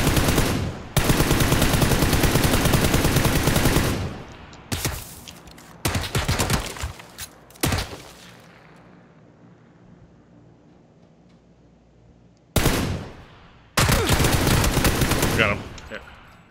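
Heavy automatic gunfire in the PUBG video game on the Sanhok map (Xbox One), with long loud sustained bursts and several shorter volleys separated by quieter gaps.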